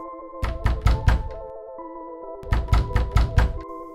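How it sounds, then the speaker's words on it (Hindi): Knocking on a house door in a horror story, two clusters of four sharp, close, hollow thunks over a steady low musical drone. "दरवाज़ा खटखटाया।"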